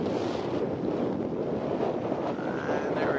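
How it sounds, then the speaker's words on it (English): Strong coastal wind buffets the microphone in a steady, loud roar near the lighthouse at Peggy's Cove, Nova Scotia, with a low rumble of surf beneath it. "Bit of wind up here as we go around to the lighthouse."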